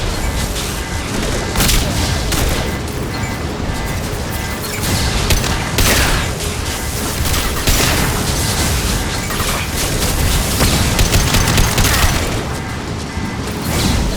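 A heavy weapon fires in Mass Effect 2, a loud, dense roar of blasts and crashing booms lasting throughout with barely any pause, and no one speaking.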